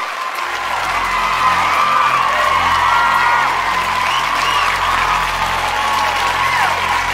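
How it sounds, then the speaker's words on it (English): Applause and cheering from an audience at an avant-garde fashion competition award, a steady wash of clapping with whoops over a low hum and no break. "Round of applause"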